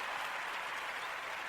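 Brief steady round of applause, a dense wash of many hands clapping at moderate level with no voices.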